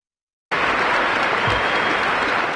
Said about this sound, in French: avant de se rendre à Buckingham Palace sous les applaudissements de la foule présente pour l'occasion